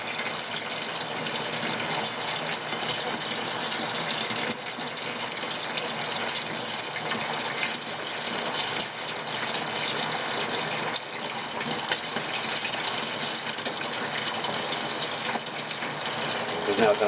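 A washing machine fills with water for a rinse cycle, a steady broadband rush of flowing water running continuously and fairly close, with a voice faintly present over it.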